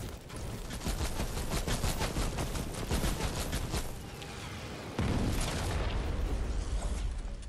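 Rapid gunfire from a Fortnite shootout, dense bursts of shots crackling one after another for the whole stretch, loud and close, with a heavier volley near the end and no talk.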